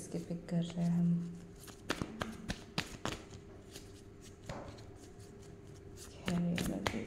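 Tarot cards shuffled and handled by hand, soft riffling and rustling with scattered taps close by, under a voice speaking intermittently.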